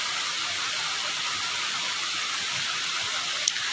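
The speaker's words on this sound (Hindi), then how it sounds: "थोड़ा बहुत देख ही लेती हूँ वर्षा मतलब कितने पानी हो रहे हैं" Rain falls steadily outside, a constant even hiss with no pauses, moderately loud and alone, with one tiny click near the end.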